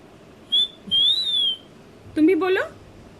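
A ringneck parrot whistles nearby: a short high note, then a longer sliding whistle, and after a pause a lower, wavering whistle, with the room otherwise quiet.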